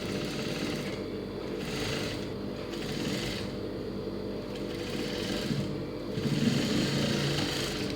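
A sewing machine stitches a blouse seam, its motor running in a steady, close whir for the whole stretch, with no voice over it.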